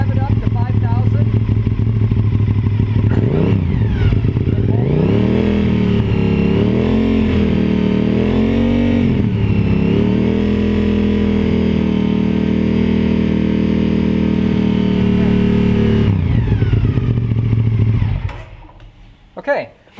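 A motorcycle engine runs close and loud during a charging-system test, rising from idle to a sustained rev of about 5,000 and dropping back near the end. The exhaust tone wavers as the rpm climbs, and a voice speaks over the engine noise.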